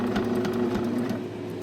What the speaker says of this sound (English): being stitched now.